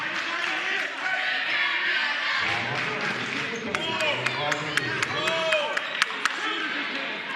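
A Murray State home crowd at a junior college men's basketball regional quarterfinal cheers loudly and steadily after an offensive rebound, while a commentator talks over it and sharp sneaker squeaks and a few bounces stand out.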